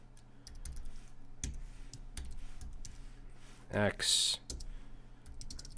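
Code typed on a computer keyboard: a close run of irregular key clicks and taps, with a short spoken word briefly cutting in.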